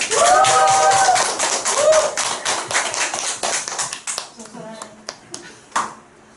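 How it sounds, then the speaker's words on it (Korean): A big round of clapping from a meeting audience, dense and loud at first under a voice, then thinning out into a few scattered claps at the end. "그리고 큰 박수와 함께 시작하겠습니다."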